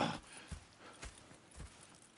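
Hooves of a horse in Red Dead Redemption 2 clop faintly, in a slow, even rhythm about every half second over a soft background hush.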